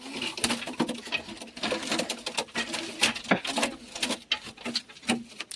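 Pigeons in a coop flutter and shuffle as they are let out, with quick repeated wing patter, scratching and faint coos, close and busy throughout.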